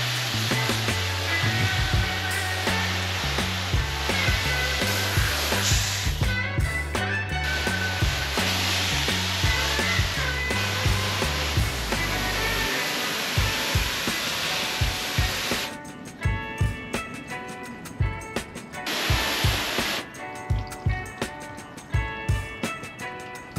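A pressure spray of water rinses cleaner off a car during detailing, a loud continuous hiss with a low mechanical drone early on, later breaking into uneven bursts as the spray starts and stops.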